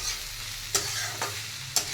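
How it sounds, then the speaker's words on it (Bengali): Shredded cabbage sizzles steadily in a pan while a spatula stirs it, with three distinct scraping clinks spaced through the steady frying hiss, close by and fairly quiet. "বাঁধাকপি ভাজা"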